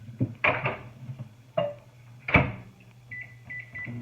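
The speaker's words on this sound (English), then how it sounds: "I'm just going to quickly melt this" A microwave oven melting a full stick of butter runs with a steady low hum, broken by a few sharp clunks of a dish or door and a short electronic beep near the end.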